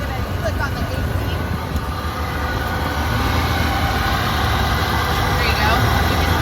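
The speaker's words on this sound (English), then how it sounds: "You can hear the AC clicking on, hopefully over the motor." A 1995 Ford F250 pickup with a 460 V8 engine runs steadily, giving a loud, continuous low rumble and drone with no clear break or distinct click standing out.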